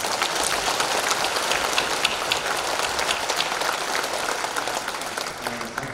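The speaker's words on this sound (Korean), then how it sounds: "하나님께 영광의 박수를 보내주시기 바랍니다" A church congregation at a thanksgiving service for a newly installed vice-moderator pastor gives sustained applause, a dense, even roar of many hands clapping that holds steady throughout and tapers slightly at the end.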